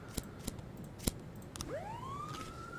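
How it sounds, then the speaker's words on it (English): A police car siren in This Is the Police sweeps upward and settles into a steady wail as the car pulls up, preceded by several sharp clicks and taps. "ignoring the police car that just drove up"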